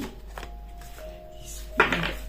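Oracle cards riffled and shuffled by hand in a quiet room, with a brief soft flutter and a sharper burst of card slaps near the end, fairly close and low in level.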